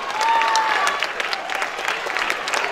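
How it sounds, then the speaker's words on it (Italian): An audience claps at the opening evening of a football tournament in Scalea, a dense, even burst of applause from a crowd filling the whole moment. "Glielo facciamo l'applauso."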